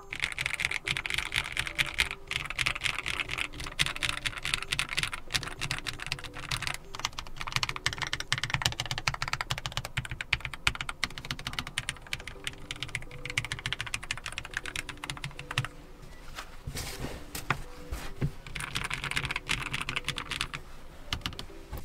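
Steady, fast typing on a low-profile LOFREE Flow Lite keyboard over a desk mat, soft muted clacks, dense and continuous at close range with only brief pauses.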